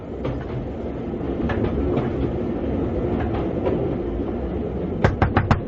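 A train runs along the rails in a radio-drama scene, a steady rumbling roll with faint rhythmic clicks, ending in a quick burst of sharp, louder clacks over the track joints.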